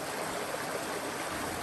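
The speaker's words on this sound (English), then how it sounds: "Nothing like the sound of a flowing creek or a babbling brook" A creek flows near a hiking trail outside San Francisco, a steady close rush of water running without a break, with no voices.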